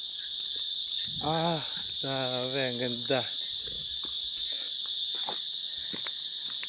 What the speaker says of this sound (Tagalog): Kuliglig lang yung naririnig mo.